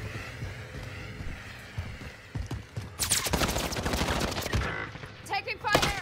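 Gunfire in Call of Duty: Warzone: scattered single shots at first, then dense bursts of rapid automatic fire with sharp cracks and echoing tails, loud and close near the end.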